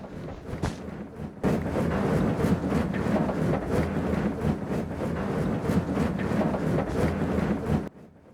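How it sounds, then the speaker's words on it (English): A small ore crusher runs steadily after a brief quieter start, a loud continuous grinding roar with rough churning texture throughout, cutting off abruptly near the end. "This actual crusher is very quick."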